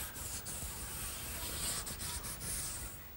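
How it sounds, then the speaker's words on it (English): 220 grit sandpaper does the final sanding on a mahogany piece, giving a close, steady rubbing hiss of paper on wood with short pauses and strokes and no talk. "Now, some final sanding with some 220 grit sandpaper"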